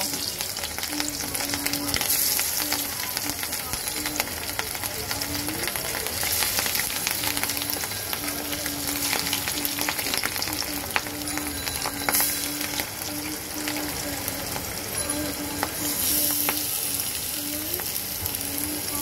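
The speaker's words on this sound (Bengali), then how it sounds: "দেখো, মাছ ভাজার জন্য কড়াইতে তেলও গরম হয়ে গেছে। আমি এখন মাছগুলি ছেড়ে দেব।" Pieces of catla fish fry in hot oil in a kadai wok, giving a continuous close sizzle and crackle with occasional spatters and faint clinks, with no one speaking.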